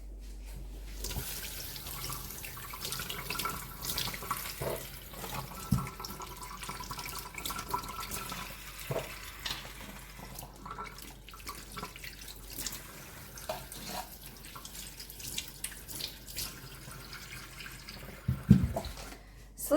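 Fruit being rinsed under a running kitchen tap, water splashing steadily into a sink with occasional drips and clatters, moderately close, no talking.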